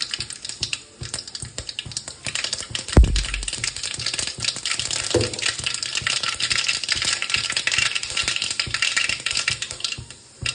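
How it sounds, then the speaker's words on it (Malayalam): Mustard seeds spluttering in hot oil while cooking a pumpkin-leaf thoran: dense, continuous crackling and popping close up, with no talking. "കടുക് പൊട്ടി വരണതും"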